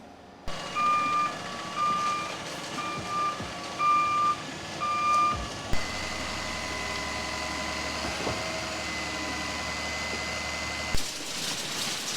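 A concrete truck arrives at a custom-home building site, its reversing alarm beeping steadily in an even rhythm over a loud diesel engine rumble, then the beeping stops while the engine keeps running.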